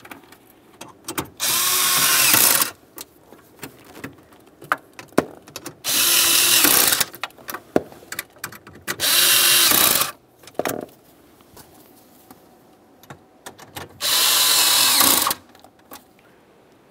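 Power tool driving mounting bolts on a 2001-2005 Ford Explorer Sport Trac, four separate loud whirring bursts of about a second each with clicks and handling noise between them, close by.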